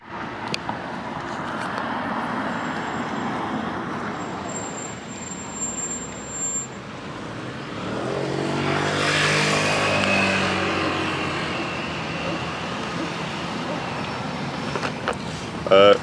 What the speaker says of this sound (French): On a un carrefour avec des feux et des voitures.